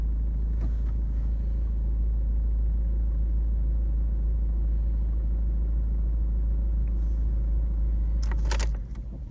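A Ford Focus 1.6 diesel engine idles with a steady, close, deep rumble, then cuts off near the end as keys jangle briefly.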